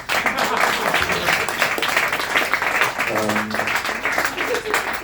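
A crowd at an English-language stand-up comedy gig claps steadily for several seconds, a dense wash of applause filling the room, with a voice faintly mixed underneath.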